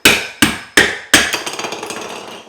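Four sharp, loud hammer blows knock blue plastic tile leveling spacers off a freshly tiled floor, followed by a quick run of lighter clicks and rattles as pieces scatter.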